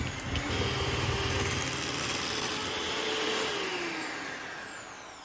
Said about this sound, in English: And we're just gonna beat this all together until it's nice and creamy.